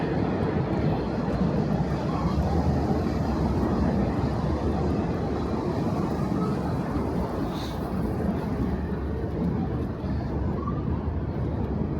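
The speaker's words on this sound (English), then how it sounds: "You hear the train coming out of the ground over there" A subway train emerging from underground near Citi Field in Queens, a steady, loud rumbling roar that holds evenly throughout with no talking.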